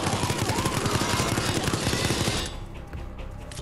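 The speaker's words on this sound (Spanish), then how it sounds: "ametralladora" Machine gun fire from the Resident Evil Resistance video game rattles in a loud, continuous rapid burst for about two and a half seconds before dropping to quieter game sounds.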